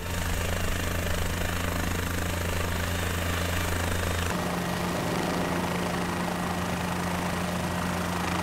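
Steady, loud helicopter drone with a low rotor hum and engine whine, continuous throughout, the tone shifting slightly midway.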